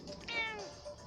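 A grey cat gives a single short meow, faint and close, rising and falling over a quiet indoor background with no talk.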